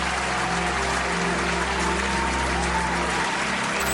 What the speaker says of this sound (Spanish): se merece un fuerte aplauso por ello